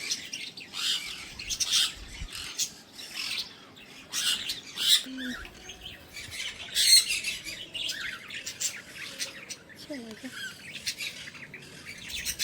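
Caged sparrows at the Umiya Mataji temple in Sidsar, Jamnagar, chirp and tweet in quick overlapping bursts, with bright calls coming and going over a quiet background.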